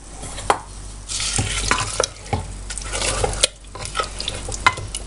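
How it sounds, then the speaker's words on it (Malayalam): Kerala parippu lentil curry with coconut oil stirred in a pot: close, irregular scraping and clinking of a spoon over a low frying hiss, with sharp knocks now and then. "ഇനി നമുക്ക് 5 മിനിറ്റായി ഞാനിത് കൂട്ടി ഇളക്കുവാണ്."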